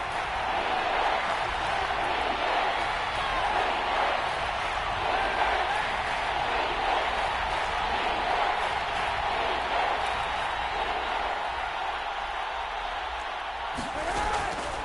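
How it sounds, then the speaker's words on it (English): A dense, roaring stadium crowd fills a domed arena at a football game, a steady wall of cheering and noise with a commentator's voice faintly beneath it. "The crowd here in the Dome making things difficult."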